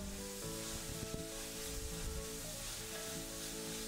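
Chopped vegetables and tomato sizzle steadily in a pan while being mixed for a vegetable dum biryani, a continuous close frying crackle with faint stirring scrapes and no talking.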